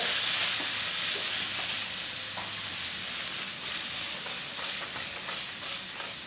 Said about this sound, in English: We're going to throw in our chili peppers that we just diced. And just start letting those cook down a little bit.